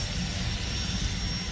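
Near Teterboro Airport, an airplane engine drones as an aircraft takes off, a steady, fairly faint low roar in the distance that holds evenly throughout, with no voices.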